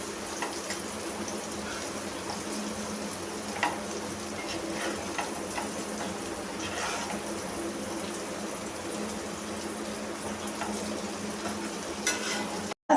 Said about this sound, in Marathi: सगळा बटाटा असा मी फ्राय करून घेतलाय।